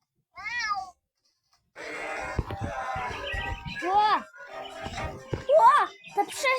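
A cat meows several times in short, rising cries in the game Cat Simulator 3D, mixed with chirpy game sound effects and a voice talking.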